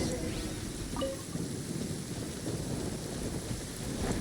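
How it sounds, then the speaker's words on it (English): Steady rain hisses through a thunderstorm in the video game Genshin Impact, a dense continuous wash with low rumbling underneath and no voices. "Lightning storm!"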